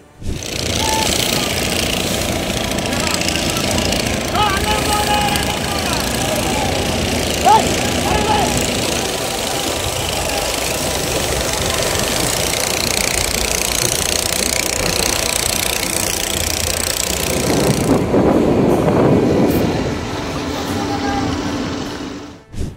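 A loud, steady fiber fishing boat engine drone with rapid knocking throughout at sea, joined near the end by rushing water and wind noise.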